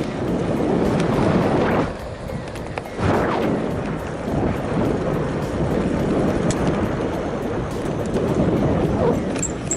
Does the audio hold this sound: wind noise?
yes